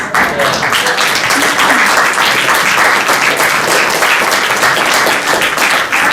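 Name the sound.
audience applause for the cast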